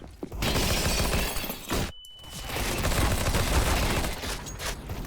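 A window's glass shatters in the CS:GO game as a player jumps through it, with a loud crash after a burst of gunfire, then more shooting.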